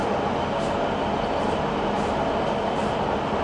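Fast train running straight through a station without stopping, a steady loud rushing rumble of wheels and carriages that fills the whole clip with no let-up.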